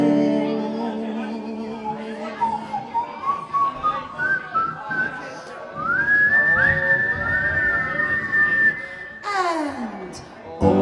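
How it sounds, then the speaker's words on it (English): A person whistles a tune, with sustained rising and gliding notes building in strength partway through and a sharp downward sweep near the end. "Just purse your lips and whistle, that's the thing."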